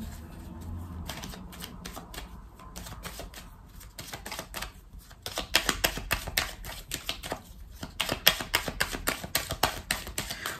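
Tarot cards are handled and turned over close by: quick papery flicks and taps in an uneven patter, sparse at first and then a denser, louder flurry through the second half, with no one speaking.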